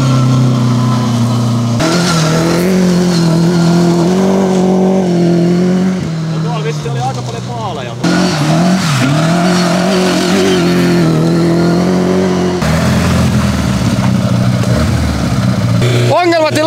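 A rally car drives a test stage, its engine revving hard through gear changes at close range, with loud rising and falling drone and people talking over it at times.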